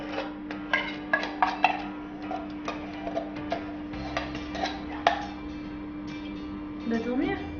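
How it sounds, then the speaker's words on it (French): Spoon clinking and scraping in a bowl while condensed milk is mixed with desiccated coconut for homemade Bounty bars, a series of light irregular taps close up, with a voice talking over it. "Commencez par mélanger le lait concentré avec la noix de coco."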